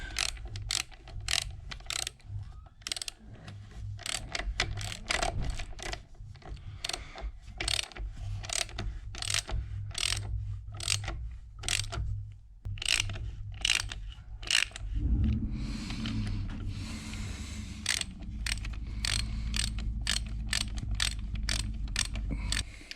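A ratchet wrench clicks in rapid, rhythmic bursts while tightening bolts on a 904 Torqueflite automatic transmission for a 1973 Dodge Dart, close and steady throughout, with a brief scrape midway and a low hum underneath.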